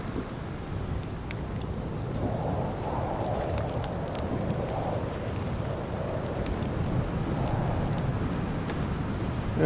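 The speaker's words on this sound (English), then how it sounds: "A lovely storm we're walking into." Steady rain with wind falls during a storm in the video game DayZ on Solisco island, a constant hiss with rumbling low noise and faint scattered ticks, no voices.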